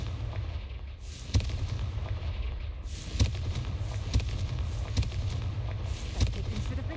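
Confringo fire spell blasts in the video game Hogwarts Legacy: several sharp, booming bursts spaced a second or two apart over a steady low rumbling background.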